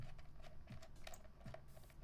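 Quiet, rapid clicking of keys on a computer keyboard, with irregular bursts of taps in a steady patter close to the microphone.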